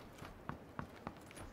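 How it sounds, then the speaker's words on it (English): Footsteps in a multiplayer video game, three or four evenly spaced soft thuds walking nearby, faint against a low background hiss. "I hear somebody else's footsteps next to you"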